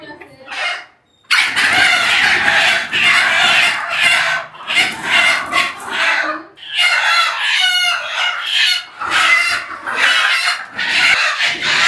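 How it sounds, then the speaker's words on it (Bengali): Native desi chickens on a rooftop farm squawk, cluck and crow loudly as they are caught, with frantic bursts of squealing and flapping alongside human voices. "ওগুলো সব দেশি মুরগি।"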